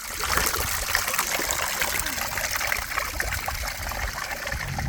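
Rippling, trickling water from a fountain in Bremen, Germany, a steady close babble that runs without pause and with no voices.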